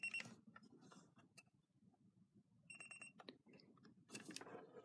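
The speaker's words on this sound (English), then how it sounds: "set the alarm to let it go buzz" Sony ICF-C1T FM/AM clock radio alarm buzzing, short pulsed electronic beeps in bursts, fairly quiet, over faint room noise and handling sounds.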